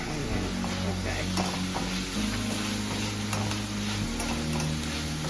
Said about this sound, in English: we're just going to fry this for a little bit for almost, I want to say good 3 minutes or so